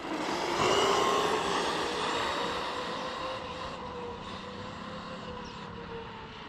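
A Traxxas E-Revo 2.0 RC truck runs off road at half throttle, its electric motor whining steadily with shifting pitch, loud and close at first, then easing slightly as it moves away.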